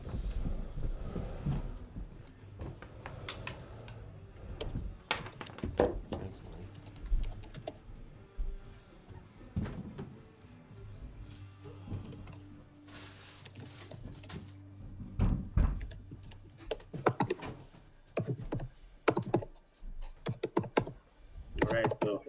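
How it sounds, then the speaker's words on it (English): Close computer keyboard typing goes on in irregular bursts of clicky keystrokes and heavier thumps, with pauses and a few louder knocks, over a quiet room background. "You guys hear my keyboard?"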